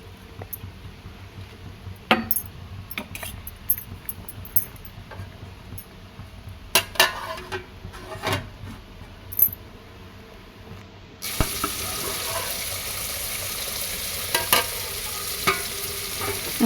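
Soaked rice stirred in a pot for pulao, with scattered scraping clinks and taps, then a lid set on, followed by a steady low hiss of cooking under occasional clicks.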